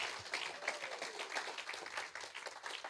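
A church congregation applauds during a sermon, with a dense, fairly faint patter of clapping that sounds distant and holds steady the whole time.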